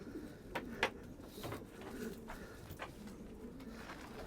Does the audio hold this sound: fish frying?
no